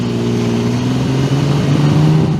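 A stock Infiniti G37 with the 3.7-liter VQ37VHR V6 runs close by, a steady, loud engine drone with a low tonal growl that lifts slightly in pitch near the end, heard alone.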